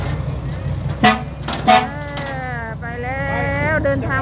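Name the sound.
vehicle horn honking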